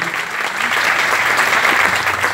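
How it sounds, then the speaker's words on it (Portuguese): A church congregation gives a big round of applause in honour of the Mother of God, dense steady clapping filling the room throughout, loud and continuous with no voices over it. "Vamos dar uma grande salva de palmas à Mãe de Deus"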